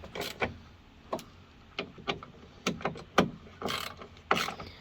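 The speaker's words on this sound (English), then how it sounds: "And now Mark is just tightening them up." Ratcheting wrench tightening bolts on the sliding door of an Iveco Daily van during a conversion, a run of sharp metallic clicks in irregular bursts, close and fairly loud.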